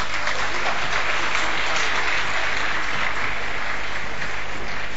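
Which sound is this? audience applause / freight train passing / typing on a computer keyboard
audience applause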